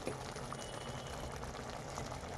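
Sliced mushrooms with soy sauce, coriander powder and garam masala frying in a pan, giving a steady, close bubbling sizzle with no break and no voices.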